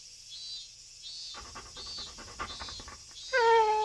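A mangy, scarred dog pants in rapid rhythmic breaths for a few seconds, close and fairly soft, ending in a short whimpering whine.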